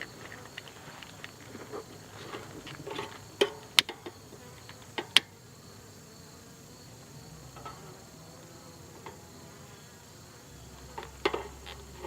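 Bees around a hive give a faint, steady insect buzz under scattered sharp clicks and knocks of handling, with no talking.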